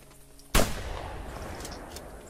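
A single loud double barrel shotgun blast in the video game theHunter Classic during a Canada goose hunt, one sharp crack followed by a long rumbling decay.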